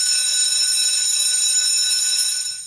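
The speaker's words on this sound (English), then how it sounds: "listen for the bell, folks." Bell ringing at a professional wrestling event, a loud, sustained metallic ringing that holds steadily for over two seconds before fading, heard alone without talk.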